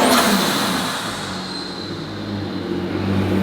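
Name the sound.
Mercedes V12 turbo engine revving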